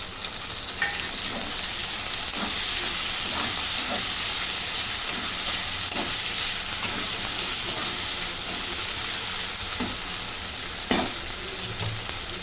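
Tomatoes sizzle and fry steadily in a pan for chicken biryani, a dense continuous hiss broken by occasional scraping clinks of stirring, loud and close throughout.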